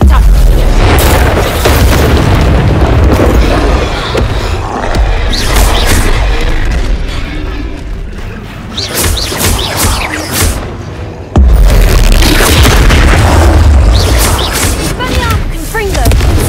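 Confringo blasting spells explode in Hogwarts Legacy, with loud, repeated booms and crashing blasts running throughout and a strong fresh burst late on.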